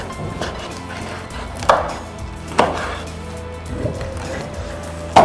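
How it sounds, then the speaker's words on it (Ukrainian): Several sharp knife chops through marinated carp on a cutting board, spaced irregularly, close up, with soft kitchen background noise between cuts. "І ріжемо зараз його на шматки, будемо обсмажувати."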